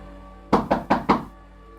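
Four evenly spaced knocks on a door land in quick succession, soft and close, against a quiet background hum with no talking.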